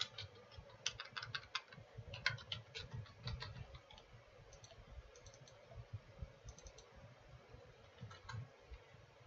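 Clicks of a computer mouse during AutoCAD drawing work come as quiet, sharp ticks, several in quick pairs and scattered bursts, over a low hum like a fan, with no voices.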